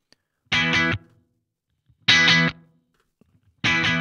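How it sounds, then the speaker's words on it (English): An electric guitar played through the BIAS Desktop amp software's Paper Speaker preset rings out three separate distorted chords, each held about half a second with a rolled-off top end, separated by silence. "It's got a really nice preset, and that preset is called Paper Speaker."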